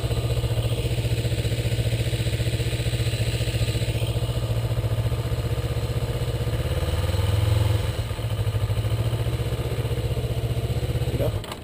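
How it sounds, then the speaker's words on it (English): A Kawasaki Ninja motorcycle engine runs close by with a steady, buzzing idle and a gentle rise in revs partway through. Voices are faintly present beneath it. "Just gotta give it a little RPM, not too much, just a little bit."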